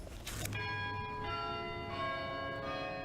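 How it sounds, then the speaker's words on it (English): Church bells ring out with long, ringing tones that overlap and sustain, struck a few times over a soft background murmur during prayers. "we heard a sound, church bells."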